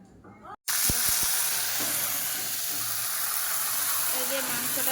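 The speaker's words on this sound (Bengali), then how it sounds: "এই যে মাংসটা দিয়ে দিল কড়াইয়ে।" Meat hits a hot kadai (wok) and breaks into a sudden loud sizzle that keeps hissing steadily, with a few brief knocks and faint background voices.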